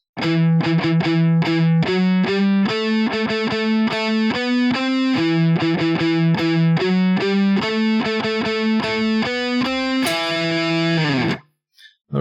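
Electric guitar with heavy distortion picks a quick run of single notes in a lilting jig rhythm through a harmonic minor melody, loud and up front, ending on a ringing note that cuts off.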